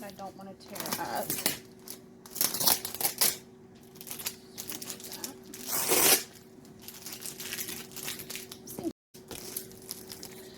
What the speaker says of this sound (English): there's paper there that I don't want to tear up.